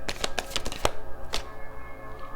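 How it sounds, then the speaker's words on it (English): Tarot cards are shuffled by hand, a rapid run of crisp riffling slaps followed by a couple of slower taps, close and clear with no talking. "Let me shuffle."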